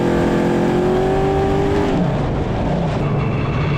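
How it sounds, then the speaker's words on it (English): King of the Hammers 2024 off-road race car launching off the start line, a loud engine revving high then dropping in pitch as it pulls away, continuous and close. "So this is John Webb off the line now"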